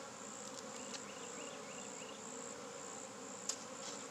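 A honey bee swarm buzzes steadily around a hive in a quiet outdoor setting, with a continuous faint drone and a few brief clicks.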